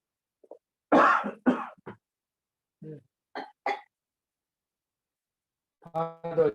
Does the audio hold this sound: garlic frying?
no